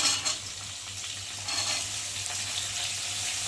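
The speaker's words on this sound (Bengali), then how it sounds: "দেখো ভাজা ভাজা হয়ে গেছে আর এখন আমি এর মধ্যে ছোলাগুলো দিয়ে দেবো" Soaked chickpeas fry in a pan with prawns, giving a close, steady sizzle with light stirring scrapes throughout and no talking.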